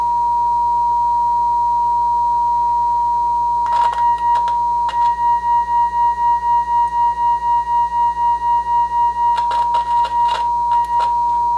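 Two mixed radio signal tones beat against each other, a steady pitched hum that swells louder and softer in a regular pulsing rhythm, with a few brief clicks and crackles over a low background hum.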